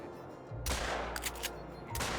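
A rifle fires once in theHunter: Call of the Wild: a sharp, loud crack followed by a rolling echo, then a few softer thumps, with no talking.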